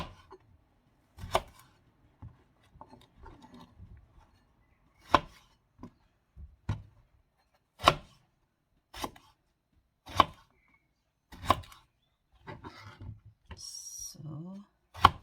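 A knife cuts through a large eggplant on a board in a series of separate, sharp chops spread out over time. Someone speaks quietly between the cuts.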